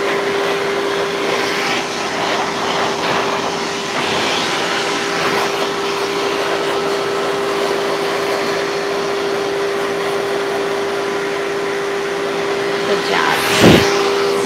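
A pet grooming dryer blows steadily on a golden retriever during a full groom, a loud continuous whooshing roar with a steady whine that runs throughout before a brief bump near the end as it shuts off.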